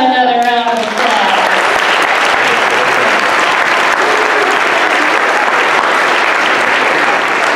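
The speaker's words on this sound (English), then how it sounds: "Can we give them another round of applause?" A school Christmas program audience claps loudly and steadily for the performers and band, the dense applause running continuously with a voice finishing speaking over its first second.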